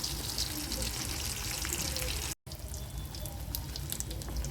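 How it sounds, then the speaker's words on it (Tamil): Fish coated in masala frying in oil on a low flame, a steady soft sizzle and crackle that runs quietly throughout with a brief dropout in the middle. "லோ ஃப்ளேம்லேயே வச்சு பொறுமையாக இந்த சைடும் ஃப்ரை பண்ணி எடுக்கலாம்."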